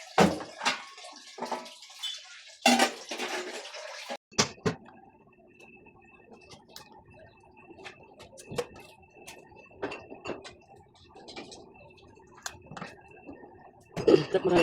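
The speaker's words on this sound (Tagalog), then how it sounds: "Yung tubig mainit na ilalagay ko guys." Hot water is poured into a pot for boiling pork nilaga in a home kitchen: a few splashy pours and clatters up front, then quiet trickling and small drips, with a final burst of pouring at the end.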